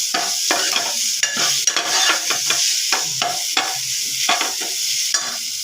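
Green masala paste sautés in a pan with onion and tomato for a potato curry, a steady close sizzle broken by frequent spatula scrapes and knocks at an uneven rhythm, with no talking.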